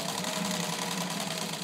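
A restored Singer 15-91 sewing machine running steadily, a continuous, even mechanical whir and hum heard close up with no talking.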